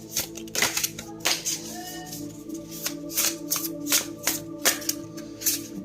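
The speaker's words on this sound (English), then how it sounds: "let's shuffle some more." Tarot cards being shuffled by hand, a quick run of crisp riffling and slapping bursts in an irregular rhythm, close and fairly loud with no talk over it.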